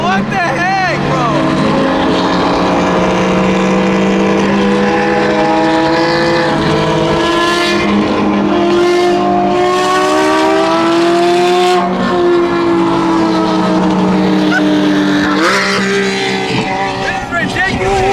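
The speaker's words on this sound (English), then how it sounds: "All you hear is the Porsches, though." Porsche sports cars rev hard at a car meet, loud and close, with rising and falling engine howls overlapping one another throughout while voices shout over the roar.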